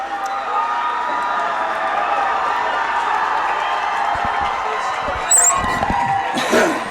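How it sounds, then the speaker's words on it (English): Home fans at a high school football game in Mountaintop cheering for the Comets, a loud steady crowd roar that swells near the end, with bursts of whoops and clapping. "what has turned out to be a great crowd tonight here in Mountaintop, the hometown Comets urging their fans on to make some noise"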